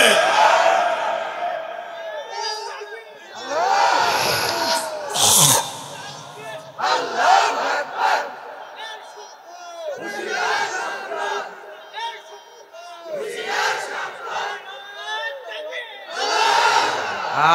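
A crowd at a religious gathering roars back the Takbir chant in repeated loud collective shouts, alternating with a voice leading them.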